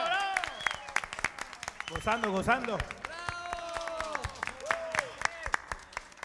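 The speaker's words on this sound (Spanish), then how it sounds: "¡Aplausos!" An audience applauds at a live music show, scattered claps and cheering with voices talking and calling out over them, fairly close and moderately loud throughout.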